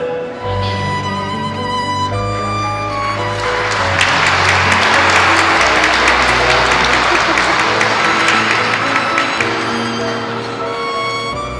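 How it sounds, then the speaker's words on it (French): A church congregation applauds the priest after his Nativity homily, sustained loud clapping from many hands that swells after a few seconds under a steady musical tone. "C'est toujours dangereux d'applaudir un prêtre après son homélie."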